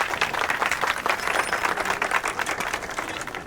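Audience clapping at a comedy film scene, a sustained burst of many hands applauding together, fairly close and even, with no speech over it.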